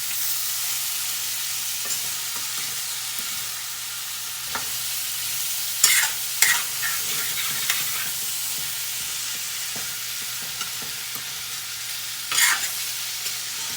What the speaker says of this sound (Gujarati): સરસ રીતે હલાવીને મિક્સ કરીશું ગેસ મીડિયમ કરીશું જેથી કરીને વઘાર બરી ન જાય